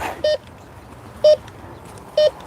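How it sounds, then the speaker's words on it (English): Three brief mid-pitched electronic beeps from a Bounty Hunter Tracker IV metal detector passing over metal, evenly spaced about a second apart, clear against a quiet background hiss. "So as I come in to the metal, you'll hear that beep."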